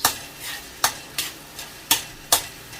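Onion and tomato go into a hot pan for lengua estofado, sizzling steadily while a utensil scrapes and stirs in about six sharp, evenly spaced strokes, close and moderately loud with no talking.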